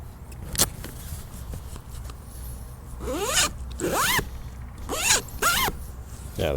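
A zipper on a Jeep soft top is pulled with a paracord zipper pull, giving a sharp tug and then several rising zipping runs in quick succession, close and clear against a low background hum.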